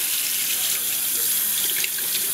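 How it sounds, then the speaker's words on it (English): Tap water runs steadily into a sink while hands are rinsed off after filleting flounder, a loud continuous splashing hiss with no speech. "Rinse your hands off."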